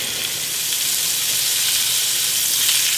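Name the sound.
pork tenderloin searing and sizzling in a pan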